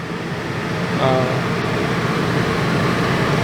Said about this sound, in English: the air conditioner's blowing fine